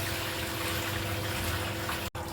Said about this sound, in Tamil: நல்லா 3 வாட்டி அலசிடலாம்.